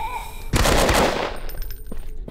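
Gunfire from the video game Night Watchmen Stories in a zombie hospital, one loud close blast or short rapid burst that rings out and fades over a second, heard alone.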